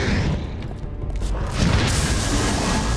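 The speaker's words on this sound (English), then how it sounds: "Just the fire breath like that." The Balrog breathes fire in The Lord of the Rings: The Fellowship of the Ring game, a loud, dense roaring rush with booming low rumble that swells and sustains for a few seconds.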